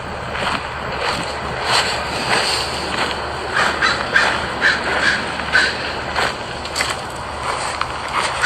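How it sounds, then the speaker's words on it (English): Crows cawing in a cemetery, several harsh caws repeating at mid-distance over a soft, steady wind hiss. "Hear the crows."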